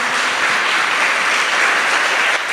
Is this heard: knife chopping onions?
no